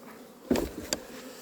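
Honeybees at an open hive give a couple of short close buzzing bursts that rise quickly and fade, with a faint steady hum underneath and no talking.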